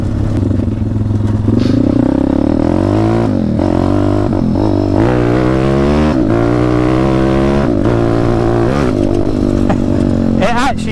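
A modified motorcycle riding and accelerating, close and loud, its engine note climbing through repeated gear changes with clattering and wind noise and a rider's voice speaking over it.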